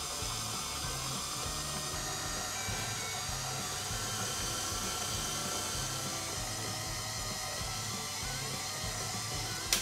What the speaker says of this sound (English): I'm going to mix that until it's nice and smooth.